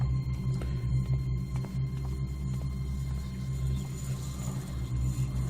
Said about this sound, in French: le bruit que vous entendez là, c'est le bruit en général des endroits qui sont hantés par des fantômes